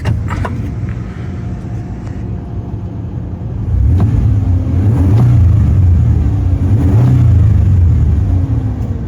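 A 1995-2001 Ford Explorer engine in neutral, idling low and then revved a few times with rising and falling throttle blips, close and fairly loud.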